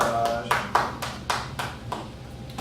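A lone person clapping at a residents meeting: about eight sharp, evenly spaced claps close by, with a voice speaking briefly at the start.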